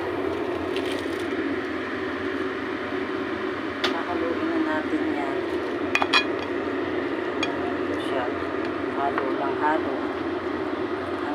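Metal utensil stirring food in a cooking pot during dinner preparation, with scattered clinks and scrapes over a steady broadband hum and background noise.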